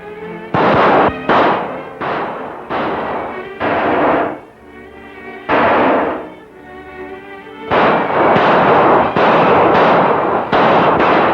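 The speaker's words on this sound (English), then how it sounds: "they're shooting up the whole west end of town" Gunfire shooting up a town, a rapid run of loud booming shots and volleys, dense and reverberant, with brief gaps between bursts.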